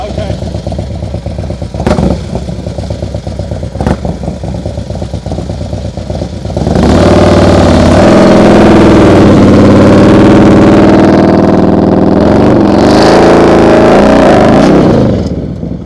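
A motorcycle in a night slow-speed riding practice session, idling with a couple of sharp clicks, then a loud, close engine drone while riding tight turns, with an instructor talking.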